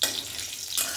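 Whole cumin seeds crackle and fry in hot oil in a pan, a brief close hiss with soft bright crackles and no voices.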